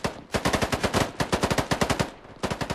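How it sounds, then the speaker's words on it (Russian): Rapid overlapping gunfire from many weapons at once in the video game CS:GO, a dense, loud barrage of repeated shots with a brief lull before firing resumes. "Столько выстрелов одновременно, что непонятно, кто откуда пиздошит."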